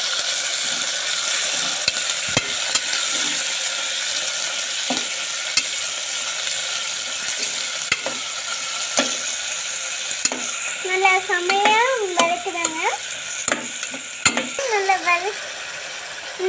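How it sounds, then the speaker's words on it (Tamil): Onion, green chilli, tomato and ginger paste sautéing for tomato rice, a steady close sizzle with occasional stirring scrapes and clinks, while a voice talks over the cooking near the end. "இந்த மாதிரி நல்லா வதக்கி எடுத்துக்கோங்க"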